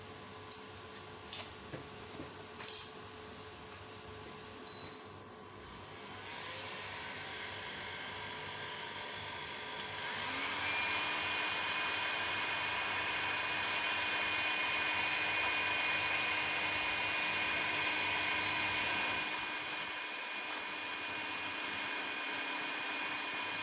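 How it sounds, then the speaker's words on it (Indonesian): Cooling fan on a pure sine wave inverter kit built on an EGS002 driver with TO247 MOSFETs, running under heavy load: a steady whirring hum that starts partway in and stays constant, with faint clicks at the start. "dan di sini kipas atau fan-nya sudah berfungsi dengan normal ya"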